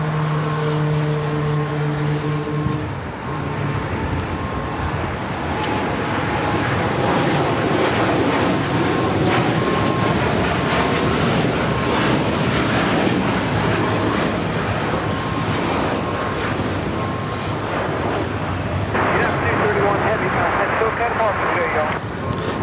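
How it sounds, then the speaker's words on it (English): An Austrian Airlines Boeing 777-200ER from Vienna touches down at LAX, a broad, steady jet roar that swells late in the clip, heard under continuous talking. "That is Austrian Flight 81 coming in from Vienna, 777-200ER, touching down."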